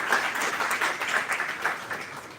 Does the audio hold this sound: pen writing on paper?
no